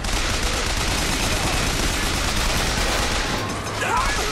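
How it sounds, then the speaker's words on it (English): Dense gunfire from Bioshock Infinite: a continuous, loud, close barrage of rapid shots lasting several seconds, with a brief dip near the end and a thin whistling sound. "I can just sit here and shoot him down and throw his own bullets back at him"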